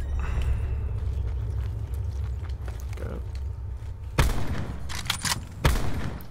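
Gunfire in the battle-royale shooter Call of Duty: Blackout as windows are shot out, with a steady low rumble and two sharp, loud broadband bursts late on, plus scattered clicks and creaks.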